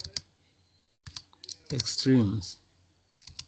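Clicks of a computer keyboard as a command is typed into a Stata command window, a few short taps at the start and end around a brief spoken word.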